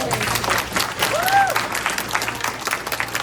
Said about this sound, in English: Let's give the lady a round of applause